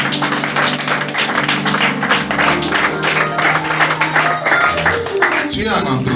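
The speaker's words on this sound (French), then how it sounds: "Acclamons très fort le Seigneur" Church congregation applauding and cheering together, a steady dense clatter of hands and raised voices filling the hall throughout, with music underneath.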